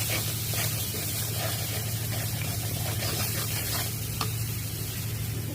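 Shrimp, peeled and cut, sautéing in a pan for a dried bean-seed curry, giving a steady broadband sizzle with soft stirring scrapes and a low constant hum underneath, close and unbroken with no talking.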